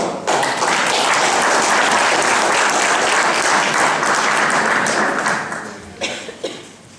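Audience in a hall at a literary competition's closing ceremony breaks into sustained, dense applause, loud and steady for several seconds before thinning into a few scattered final claps.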